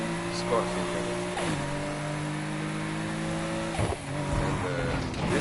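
Car engine in Need for Speed Heat, running the basic engine with a pipe upgrade: a steady, close revving drone that drops in pitch at two gear shifts, then climbs again.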